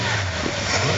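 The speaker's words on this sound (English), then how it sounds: "I've got loud mufflers on her." A 1979 Chrysler New Yorker fitted with loud mufflers revs its engine, giving a brief, loud, rough roar that fills the moment close at hand.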